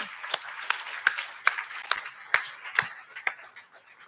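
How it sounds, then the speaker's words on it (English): Sparse clapping at an awards livestream honoring a program partner, a handful of distinct, evenly spaced claps close to the microphone rather than a full crowd, with no talk over them. "Please join me in one more round of applause for the Bright Promises 2021 and 2022 program partner."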